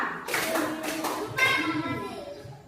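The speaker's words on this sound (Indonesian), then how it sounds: "Ayo mana tepuk tangan ya." A class of schoolchildren claps their hands in short, rhythmic bursts in a classroom while a teacher and children speak over and between the claps.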